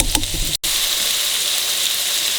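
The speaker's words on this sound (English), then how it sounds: "Now I'm trying to sear as much of this andouille as I can right in the pan" Andouille sausage sears in hot oil in a pan, a loud, dense, steady sizzle up close after a few brief scraping clatters and a momentary cut.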